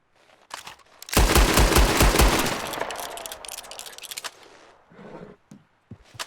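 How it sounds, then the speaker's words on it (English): A cannon fires in a video game with a loud burst of rapid, rattling blasts that trails off into a rumbling decay, followed by a few fainter scattered shots. "Well, I have the cannon on me right now."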